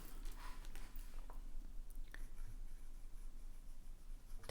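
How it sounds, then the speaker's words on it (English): A Pilot Kakuno fountain pen writing on Tomoe River paper gives a soft, continuous scratchy rustle with a few faint taps, close up and quiet, no voices. "So I'm just going to write, let me just write right here."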